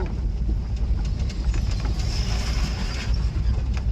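A car drives on a highway during a driving lesson. A steady, loud low rumble of engine and road noise continues without a break, with faint creaks and rattles over it.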